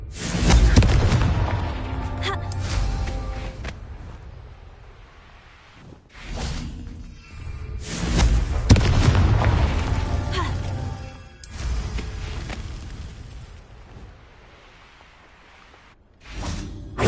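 Confringo fire spells erupt in the Hogwarts Legacy video game, a series of loud booming blasts with whooshing tails, roughly four big bursts spaced a few seconds apart, each swelling and fading out.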